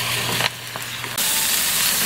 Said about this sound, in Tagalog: habang piniprito natin siya